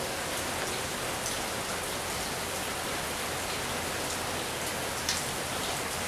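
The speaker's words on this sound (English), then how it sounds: "But the rain's making a lot of noise" Steady rain drums on an aluminum carport cover, a dense, even hiss of drops hitting metal that holds at the same level throughout, with no talking.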